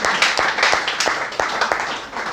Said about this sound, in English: Please, a big clapping for him once again